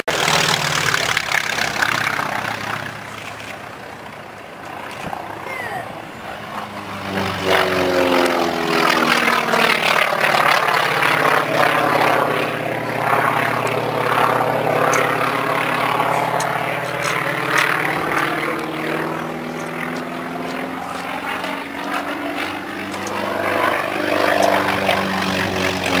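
T-28 Fennec propeller aircraft at the Duxford Autumn Air Show 2009, a loud continuous radial engine drone with a shifting pitch as the plane passes, sustained throughout without speech.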